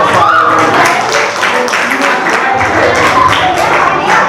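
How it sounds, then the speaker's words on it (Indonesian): Audience clapping at a community outreach talk, a dense, steady patter of many hands filling the whole stretch at close range, with some voices mixed in. "Tepuk tangan lagi dong, luar biasa."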